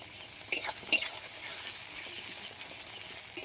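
Ground spice paste fries in a pan with a low steady sizzle, broken early by two quick scrapes of a spoon against the metal.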